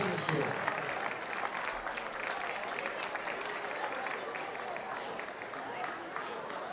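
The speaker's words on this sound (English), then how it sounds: "give all these league champions a big round of applause as they smile for the picture" A crowd applauds steadily for girls' lacrosse league champions at an awards gathering, a dense, sustained clapping that holds at moderate loudness throughout.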